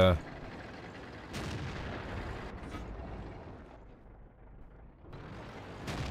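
Tank cannon fire in World of Tanks with a Tiger P, heavy booming shots opening the stretch and another near the end, a low rumbling battle bed in between.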